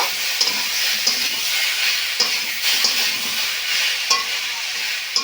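Vegetables frying with mustard paste in a pan for Bengali shukto, a steady close hiss of sizzling with occasional scrapes and clicks from a spatula stirring through the mix.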